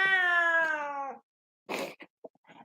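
A pet cat indoors gives one long drawn-out meow, close and clear, then a pause and a few short fainter chirps and murmurs.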